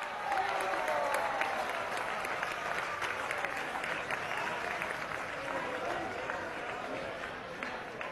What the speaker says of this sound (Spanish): Pido un aplauso también.